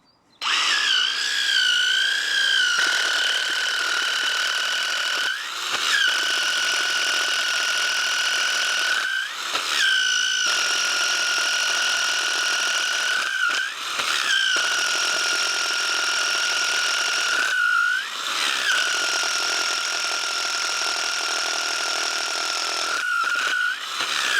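A power drill bores a half-inch hole through wood for a farm H brace, a steady high motor whine that dips and strains in regular cycles, loud and close, with no talk.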